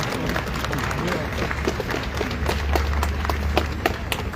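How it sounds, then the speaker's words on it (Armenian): Party supporters applauding outside a church as Armenian prime minister Pashinyan arrives, a steady crowd applause with scattered sharp claps and murmuring voices mixed in. "Քպեականների ծափերի տակ Փաշինյանը մտնում է եկեղեցի"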